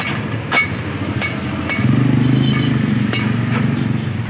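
Part of a broken Union electric fan being hammered loose: several sharp knocks at irregular intervals over a low rumbling background, fairly loud and close.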